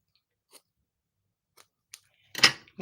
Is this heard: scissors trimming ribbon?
yes